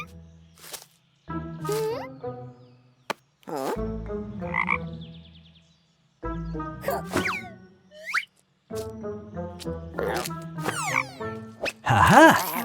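A cartoon frog croaks repeatedly in bursts, loud and close, with bouncy boing-like pitch slides and plopping effects between short silent gaps.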